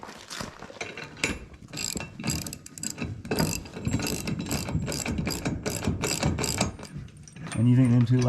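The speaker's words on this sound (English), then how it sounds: "personally engineered toe jack" A homemade toe jack being cranked to lift a milled oak beam during a cabin remodel, loud close ratcheting clicks in steady repeated strokes with mechanical clanks, and a brief voice near the end.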